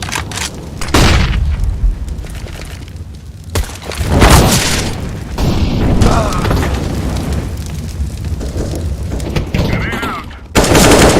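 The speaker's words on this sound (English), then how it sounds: "Flashbang." A Counter-Strike: Global Offensive match fills the air with loud, close gunfire bursts, a sharp flashbang blast and heavy booms, with uneven bangs breaking up sustained shooting and voices partly heard beneath.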